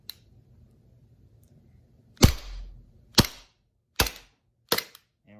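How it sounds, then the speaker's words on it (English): Elite Force Glock 17 Gen 5 airsoft pistol firing four sharp gas-powered cracks at roughly one-second intervals, close and loud against a quiet background. "this is me shooting the gun."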